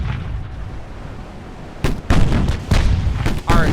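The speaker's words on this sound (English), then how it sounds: "currently we're firing all of the front guns" Warship front guns firing in the naval video game Ultimate Admiral Dreadnoughts, heavy booming salvos arriving in a cluster of loud blasts after a quieter rumbling stretch.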